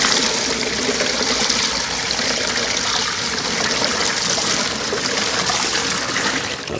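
Five gallons of water gush into a container for soaking a coco coir brick, a loud, steady, close rushing pour that holds constant throughout.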